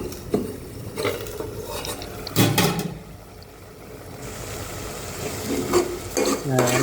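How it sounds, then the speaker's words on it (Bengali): Bottle gourd and small shrimp curry fries in oil in a pan, with a spoon stirring and scraping the pot in several clattering bursts over a soft sizzle, close and with no talking. "ওটা আমি এখন এই উপর দিয়ে ঢেলে দিব, একটু নাড়াচাড়া করবো।"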